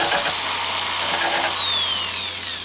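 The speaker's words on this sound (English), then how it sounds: "I got the rolling pin sander" A rolling pin sander works over the epoxy-putty finish repair on a 2003 Martin DM acoustic guitar. It gives a loud, steady, close whirring whine with a shifting pitch and no pauses.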